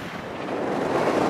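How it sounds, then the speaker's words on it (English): Strong wind at Carowinds amusement park in Charlotte, NC, a broad, steady rushing roar buffeting the microphone and growing slightly louder, with no voices. "It is windy as all get out"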